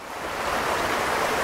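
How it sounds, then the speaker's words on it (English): A brook gurgles beside a hillside trail, a steady close watery rush that swells slightly and then holds level, with no voices. "the sound of a gurgling brook right beside me."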